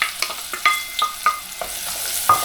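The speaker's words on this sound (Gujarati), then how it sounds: "પછી એમાં આપણે નાખી દઈએ ઓનિયન." Onion frying in a pan for palak paneer, with soft sizzling under a series of sharp stirring scrapes and clinks at an irregular pace, close and moderately loud.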